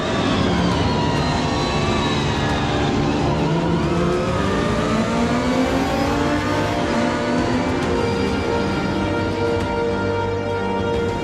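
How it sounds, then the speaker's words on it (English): Lister Storm race car driving, its engine a continuous loud drone with rising and falling rev sweeps, sustained throughout without pauses. "So I've just driven the Lister Storm in the real world"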